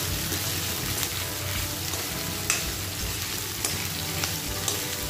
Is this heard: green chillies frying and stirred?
yes